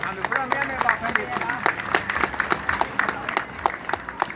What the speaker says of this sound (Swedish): jag tycker vi ger Thomas en rungande stor applåd till årets Heba-ambassadör 2015.